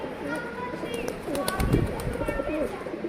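Van pigeons coo in soft, rolling calls close by, with a voice and other handling noises mixed in over a short stretch.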